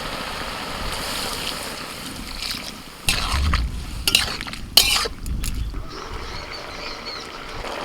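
Water is poured into a pan of frying potatoes and bottle gourd greens, giving a few splashy bursts and a stirring rustle over a low background hiss, with no talk.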